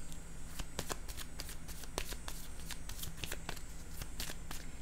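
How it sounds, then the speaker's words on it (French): Tarot cards are handled and shuffled, giving a rapid string of crisp clicks and flutters that run steadily throughout, close and clear, with no voices. "Je vais déposer une carte ici."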